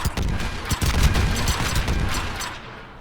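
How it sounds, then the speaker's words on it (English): Rapid automatic gunfire from a weapon in Mass Effect 3 Legendary Edition rattles loud and close, a fast stream of sharp shots that tapers off toward the end. "But that gun does not fire that fast."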